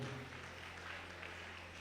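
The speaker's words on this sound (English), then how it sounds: "A round of applause for Honorable" Steady clapping from an audience at an inter-tertiary institution debate competition, a continuous dense patter at moderate distance, fairly faint, with no talking over it.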